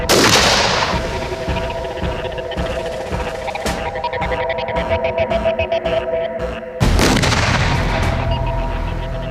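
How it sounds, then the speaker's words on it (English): A landmine bursts up out of the ground and explodes, a loud sustained rumbling blast with rapid crackling, then a second sharp eruption near the end, with no voices. "the mine actually erupts out of the ground to about 2 metres and sends out metal in a 360-degree arc"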